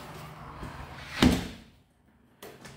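The back door of a prefab cabin opens and closes, giving soft knocks and a sharp latch-like bang in the middle, then a brief quiet gap before more faint clunks.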